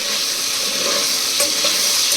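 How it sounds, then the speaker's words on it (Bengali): Potato pieces frying in hot oil in a pot, a close, continuous sizzle with stirring scrapes throughout, no voices. "তেল গরম হয়ে গেছে, এখন আলুগুলো দিয়ে দিব।"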